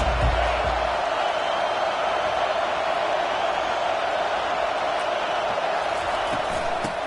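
Stadium crowd at a college football game, a steady dense roar that holds loud and even throughout with no single voice standing out.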